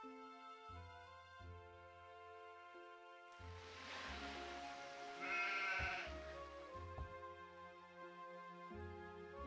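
Sheep in Anno 1602 let out several drawn-out bleats in turn, clear and close, with a brief swell of wind- or surf-like ambience midway and soft game background tones between calls.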